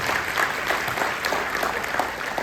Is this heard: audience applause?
yes